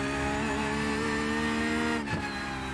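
A Porsche GT3R race car in iRacing, driven at Hockenheim on full throttle out of a turn. The engine note climbs steadily in pitch, dips briefly near the end, then pulls on, loud and close with no talk.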